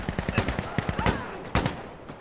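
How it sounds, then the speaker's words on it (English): Rapid gunfire bursts with a heavier blast in the Insurgency Sandstorm video game, sharp repeated cracks and a few louder booms, with voices talking over them. "I hit him with a rocket."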